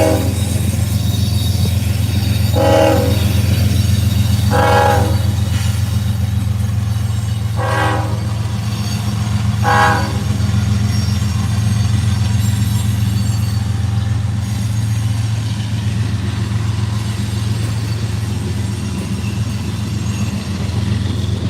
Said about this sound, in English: Hopefully this train's not too long because it is noisy.